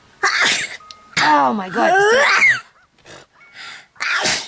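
A loud, close sneeze bursts out amid voiced exclamations, followed by a few shorter breathy sounds, and a voice speaks briefly.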